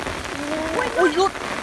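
Rain patters steadily on a surface while fishing outdoors, a voice speaking briefly over it.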